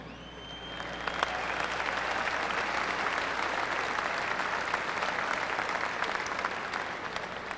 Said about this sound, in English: He'd want to give yourselves a big round of applause today.